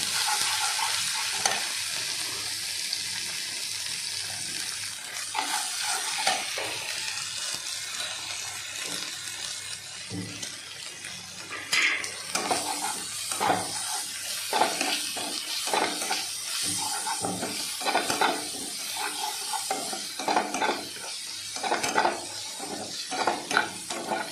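Chicken sautés with ginger and garlic in a pan, a continuous sizzle broken by repeated scraping and clinking stirs of a utensil against the metal, fairly close and with no voices.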